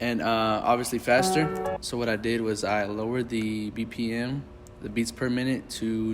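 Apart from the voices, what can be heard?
No distinct noise like a dog, phone or traffic.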